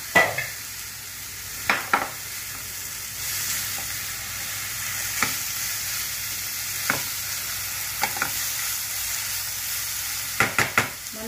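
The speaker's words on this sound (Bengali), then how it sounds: "একটু ভাজা ভাজা হোক।" Grated radish sizzling in a pan for a chhechki, a steady low fry broken by sharp scrapes and taps of a spatula stirring at irregular intervals, close and unaccompanied by voices.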